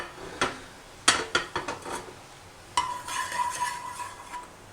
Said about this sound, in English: I'm just going to add a little bit of oil. Now just move that around a bit